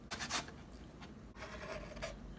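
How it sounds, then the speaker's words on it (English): Fresh ginger grated on a microplane, quick soft rasping strokes in short bursts, close and faint, with no talk. "you can use a microplane or a fine grater to grate the ginger."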